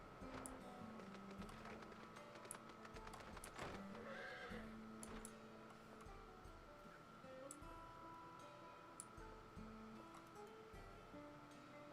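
A unicorn mount in Final Fantasy XIV: Dawntrail gives a faint, high whinny amid game music and soft clicking effects, heard quietly in the background with no speech.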